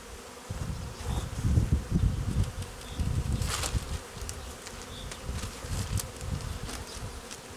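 Honey bees buzz busily around an alpine beehive, a close, continuous hum that swells and fades as insects move near, with occasional soft knocks from handling the hive.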